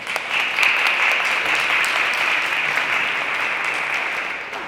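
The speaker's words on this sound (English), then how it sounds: "Give that a round of applause." An audience at a spring social safety net symposium gives a sustained round of applause, a dense, even patter of many hands that holds steady and fades slightly toward the end.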